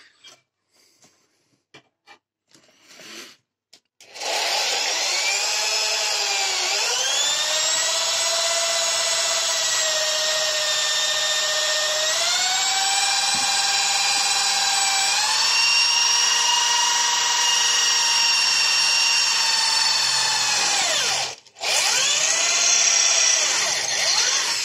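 Power drill boring into an old Soviet tool-steel kitchen knife about one and a half millimetres thick, a loud sustained high whine that shifts pitch as the bit bites, starting after a few short bursts and briefly dropping out near the end.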